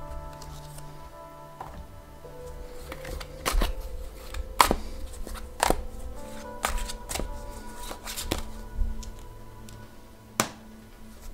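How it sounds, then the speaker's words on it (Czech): A deck of tarot cards is shuffled by hand, close and crisp, in a run of sharp riffling snaps and slaps at an uneven pace, with no talking. "Asi si zamíchám karty."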